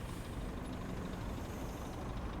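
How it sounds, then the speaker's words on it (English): A truck engine in the video game On The Road Truck Simulator idles with a steady, low rumbling drone, constant and even throughout, with no talking. "we can leave the engine running, I think."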